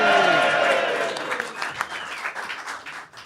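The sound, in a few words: audience applause for listener Dave Stebbings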